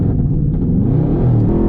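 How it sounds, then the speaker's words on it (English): A Dodge Charger 392 Scat Pack launches hard on launch control, its engine giving a loud, close, deep rumbling roar that builds steadily through the short burst. "That was my first time ever using launch control."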